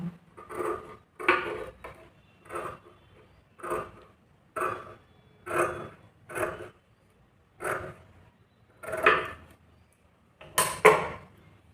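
Scissors cutting blouse fabric, with about eleven evenly spaced crisp snips, each a short close burst of metallic shearing followed by a brief pause.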